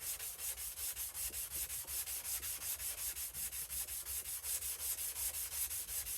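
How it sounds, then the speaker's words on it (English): Sole of a clone 102 block plane being flattened by rubbing it back and forth on an abrasive surface, a fast, even rasping rhythm of about three strokes per second, close and continuous throughout. "So I'll try to flatten the sole a wee bit."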